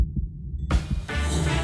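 A t-shirt is thumped and flapped to imitate a pounding heartbeat, giving deep muffled double thuds in a steady rhythm, close and fairly loud, with a brighter rustling layer joining toward the end.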